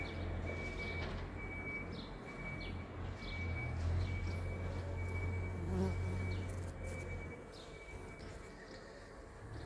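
Steady buzzing of many honeybees working flowers, a continuous drone close by, with faint outdoor ambience and a low hum underneath.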